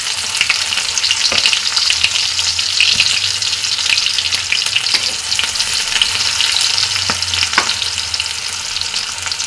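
Chopped onions frying gently in oil with bay leaf, cinnamon, cardamom and cloves for a chicken and green pea curry, a steady bright sizzle with a few soft stirring knocks, close and continuous with no talk.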